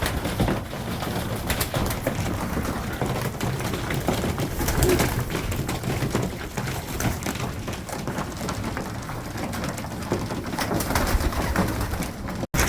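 Pigeons in a loft coo in a dense, continuous chorus of low, rolling calls close by, layered over soft rustling and fluttering with no talking.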